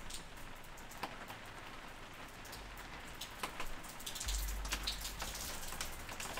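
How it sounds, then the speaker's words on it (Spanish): Steady rain falls in a video game, a soft continuous patter of drops with occasional sharper splashes, faint and uninterrupted throughout. "se ha puesto a llover también el juego"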